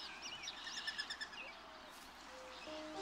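A mourning dove gives a soft, low, hooting coo in the wild, faint and set among brief high chirps from other birds.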